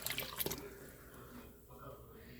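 Water pours into a bowl of yeast and white sugar while mixing dessert bread dough. A few quick splashy drips come first, then a soft, faint trickle settles in.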